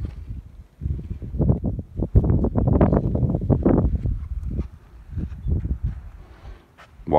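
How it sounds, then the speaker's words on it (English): Gusty wind at a desert glamping campsite buffets the microphone in uneven, rumbling bursts, loud in the middle and dropping away in quieter lulls. "Sorry about the wind."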